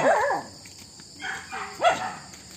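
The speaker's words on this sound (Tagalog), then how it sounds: "Mga aso ito." A few dog barks and yelps on a farm, one at the start and a couple more near the end, moderately close over quiet background.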